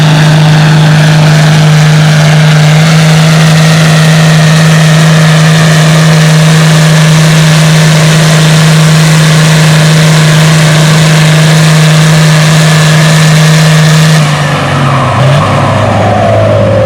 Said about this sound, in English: we got Colby on the sled on the 1256